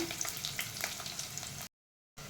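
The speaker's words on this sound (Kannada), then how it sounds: "ನಾನು ತೆಂಗಿನ ಎಣ್ಣೆ ಬಿಸಿ ಆಗಲಿಕ್ಕೆ ಇಟ್ಟಿದ್ದೇನೆ ಇವಾಗ ಇದಕ್ಕೆ ಕಟ್ ಮಾಡಿದ ಈರುಳ್ಳಿ ಹಾಕಬೇಕು" Chopped onions fry in hot coconut oil in a pan, a close, steady crackling sizzle with light popping that runs alone before a brief dropout and a short return.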